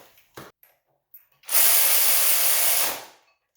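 A power tool whirs in one loud, steady burst of about a second and a half, driving a clutch pressure plate bolt onto the flywheel of a Honda B18B1 engine, preceded by a few small clicks.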